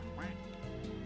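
A leaf duck in a video game gives a short, close quack over a busy, continuous game soundtrack.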